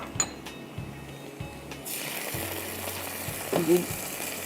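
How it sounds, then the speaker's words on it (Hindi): Ginger garlic paste frying with onions in a pan starts as a faint sizzle, then surges into a louder, steady frying hiss midway, with a brief clink of a utensil near the end. "तो अब इसमें हम डाल देंगे जिंजर गार्लिक और इसको हम 2 मिनट के लिए भूनेंगे।"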